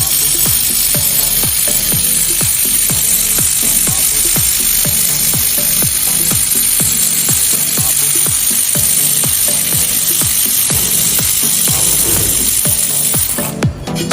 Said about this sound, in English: Handheld laser welding machine operate. This is T-welding.